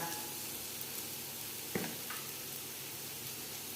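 Chicken kondattam masala sautéing in a pan, a steady soft sizzle throughout with one brief clatter of stirring partway through, no voices.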